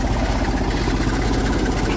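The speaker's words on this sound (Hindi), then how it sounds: "टॉप गियर में लग रहा है और टॉप में चल पड़ा है ट्रैक्टर" A tractor engine drives along in top gear on a farm field with a steady, loud, low rumble. It runs close and constant throughout, with no speech over it.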